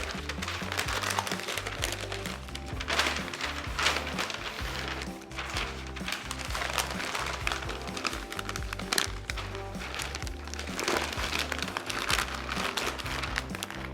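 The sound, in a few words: butcher paper crinkling while wrapping a brisket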